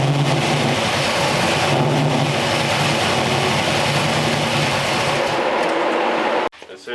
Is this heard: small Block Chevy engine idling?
yes